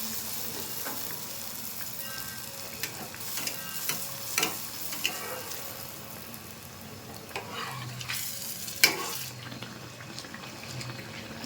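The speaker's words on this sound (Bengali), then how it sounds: "এভাবেই আমি সবগুলো ভেজে নেব" Powa pitha batter frying in hot oil, giving a continuous bright sizzle with scattered utensil taps and clinks. Brief bursts of running water or louder crackle come in the second half, and nobody speaks.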